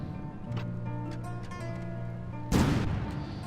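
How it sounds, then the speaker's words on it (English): From the Depths turrets fire pure frag shells: one loud, sharp close blast cracks out over a steady droning engine hum, after a few faint distant thuds. "these are shooting pure frag shells at 419 meters per second"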